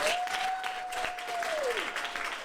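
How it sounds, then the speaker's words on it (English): Audience applause at a spring quarterly forum after a stage panel, steady, moderately distant clapping sustained throughout, with a faint tone and little speech. "Have a round of applause."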